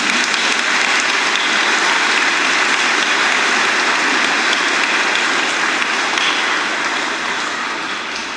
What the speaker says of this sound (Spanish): Un aplauso a los niños.